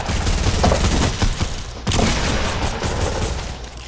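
Heavy sniper rifle fire in a video game battle royale match, with loud booming shots and dense gunfire filling the whole stretch and a fresh strong blast just before the two-second mark.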